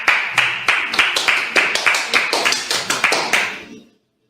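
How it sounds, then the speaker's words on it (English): A single person claps in a quick, even rhythm, about fifteen sharp, close claps in a row, and then stops. "I'll clap it up for you."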